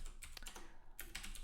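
Someone types code on a computer keyboard, a steady patter of quiet key clicks in irregular bursts with a brief pause midway and no talking.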